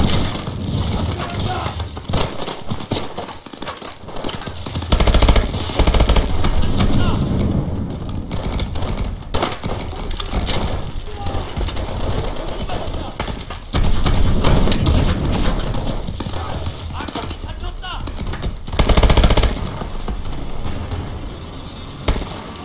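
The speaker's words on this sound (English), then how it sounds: "Shooting." Sustained gunfire and thudding impacts in the futuristic shooter Call of Duty: Advanced Warfare, dense and loud throughout with heavier bursts, mixed under intermittent talk.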